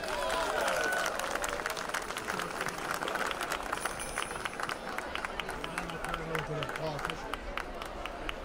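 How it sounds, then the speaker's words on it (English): Crowd applause at a town holiday celebration, steady dense clapping that fills the whole stretch, with crowd murmur and voices underneath. "So again, for the two Susans, let's have a big round of applause."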